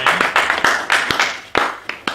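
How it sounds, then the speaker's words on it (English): A small lecture audience claps after a magic demonstration: a handful of sparse, distinct claps, fairly close, fading out over a couple of seconds. "So a round of applause for my brain"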